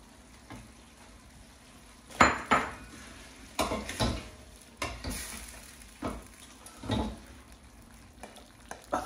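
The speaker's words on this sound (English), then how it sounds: "Give that a bit of a stir." A utensil scrapes and clanks through chicken bhuna with tomato quarters in a sizzling pan, giving irregular close stirring strokes over a low frying hiss.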